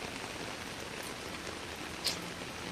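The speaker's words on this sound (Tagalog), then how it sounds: "The rain no stop." Rain falls steadily, a faint, even hiss of drops on surfaces, constant throughout with one small tap near the end.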